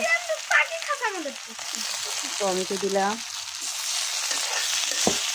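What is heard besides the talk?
frying in hot oil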